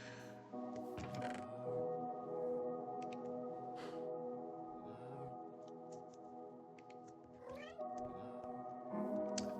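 Cats meowing in Minecraft, a few short cries over steady game music and ambience, no talk.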